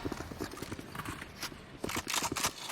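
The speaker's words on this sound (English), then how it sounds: "they can hear, again, the rumbling of the footsteps forwards" Footsteps in a Valorant match at the Champions event on the Pearl map rumble forward as a rapid, close, dense patter of steps under game noise, with no clear talk.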